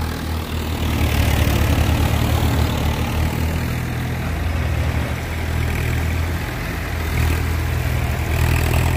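A Swaraj tractor engine runs steadily at close range, a continuous low rumbling drone with a throbbing idle-like texture that holds throughout.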